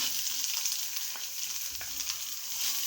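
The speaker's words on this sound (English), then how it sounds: "So after adding green chilies, we will add onion to it" Onions and green chilies frying in a pan for spicy Indian-style masala pasta, giving a steady, moderately faint sizzle with soft stirring scrapes throughout.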